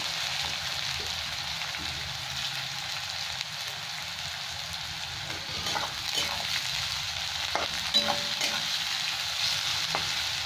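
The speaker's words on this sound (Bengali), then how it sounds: "এখন 2-3 মিনিট ধরে এটাকে ভেজে নিই ভালো করে।" Large sliced onions fry in a pan for a Bengali jackfruit curry, giving a steady, fairly loud hissing sizzle throughout with occasional crackles and stirring scrapes.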